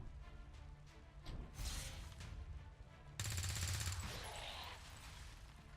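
Gunfire in the tactical strategy game Long War 2: a burst of rapid shots, then a second, louder, denser volley of automatic fire, close and sharp, with no talk over it.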